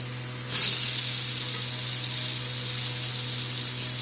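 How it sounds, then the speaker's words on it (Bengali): Sliced onions go into hot oil in a pan after potatoes were fried with nigella seeds, bursting into a sudden loud, steady sizzle that continues without pause, with no one speaking. "কালো জিরা সম্বাদ দিয়ে আলু ভাজলাম। এখন পেঁয়াজ দিয়ে দিলাম।"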